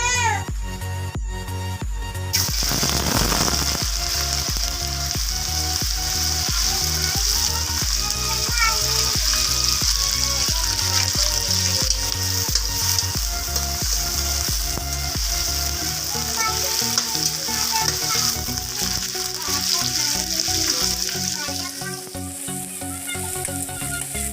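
Jackfruit pieces frying in smoking-hot oil for a village-style jackfruit and chicken dish: a loud, steady crackling sizzle with rhythmic scraping and clinking of a utensil against the pan.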